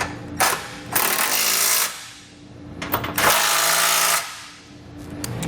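A power tool or ratchet snugs down the bolts of a Curt trailer hitch receiver on a 2016 Cadillac SRX, two loud whirring runs about a second each with clicks between.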